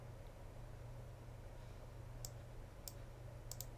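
Computer mouse clicks while working in astronomy imaging software, a few sharp, faint taps spaced apart over a low steady background hiss.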